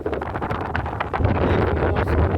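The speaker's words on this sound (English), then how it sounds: "Even more so on the day, incredibly windy." Strong wind on a muddy mountain site buffets the microphone in loud, rumbling gusts that grow heavier partway through, with no one speaking.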